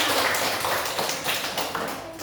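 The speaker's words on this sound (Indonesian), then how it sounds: "Oke, kita beri tepuk tangan buat semuanya" In an Indonesian classroom during a teaching-practice lesson, students clap together in loud, rhythmic bursts that fill the room.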